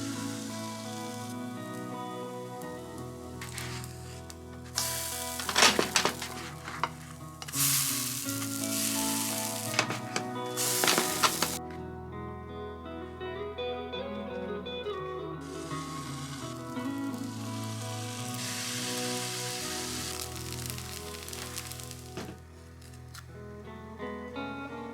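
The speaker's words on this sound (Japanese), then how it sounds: "ココナッツオイルで焼いていきます。" Pancake batter sizzles and fries in coconut oil in a home kitchen on a morning, a steady crackling hiss that swells and eases over the stretch with brief louder spatters, heard alone without talk.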